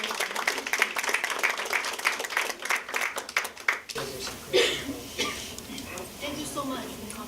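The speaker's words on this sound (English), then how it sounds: "Another round of applause for Professor." An audience claps for a professor at a university talk: dense, lively applause for about four seconds, then fading into someone speaking over the room.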